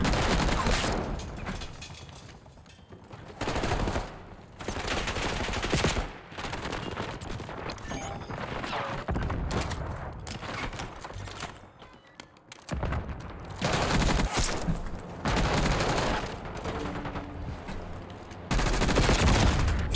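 Heavy gunfire in the shooter Black Ops 6 / Warzone: loud overlapping automatic bursts that come in waves with brief lulls, continuing across the whole stretch without speech.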